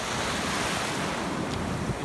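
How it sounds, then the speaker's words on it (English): Ocean waves washing in at a low-tide beach while fishing, a steady, loud roar of surf and rushing water with wind noise on the microphone and no talk. "see when that big wave like that came, and it just brought all this water in."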